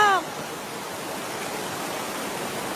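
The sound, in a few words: flowing river water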